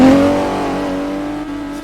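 A 2-litre banger car's engine revs hard on a run-up to a ramp jump at Buxton, a loud, close roar that climbs in pitch and then holds at a steady high drone.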